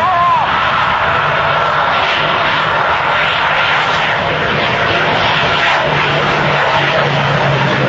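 A jet-turbine-powered truck runs up to full power and launches down the runway at an air force base open house, a loud continuous turbine roar and rush that stays steady and close throughout.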